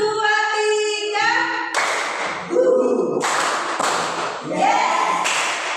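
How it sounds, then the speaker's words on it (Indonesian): A group claps in unison on a counted call in a classroom session, crisp synchronized claps in short bursts, alternating with a teacher's voice speaking between the counts. "Tepuk 1, 2,"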